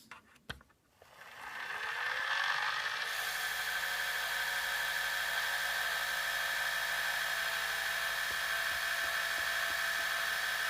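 A fully wound Gakken Premium gramophone starts after a few clicks, spinning up within about two seconds into a steady, continuous whirring drone that holds unchanged, with occasional faint ticks.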